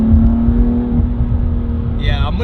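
Car engine pulling hard in second gear on a new car with Michelin Pilot Sport 4S tires in freezing conditions, a steady loud drone throughout that climbs in pitch near the end.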